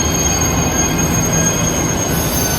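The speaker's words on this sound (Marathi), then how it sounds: "आणि आपली देखील मेट्रो येते आहे." A Mumbai Metro Line 2B train pulls into a station, with a loud, steady rumble and a high, continuous wheel squeal close by throughout.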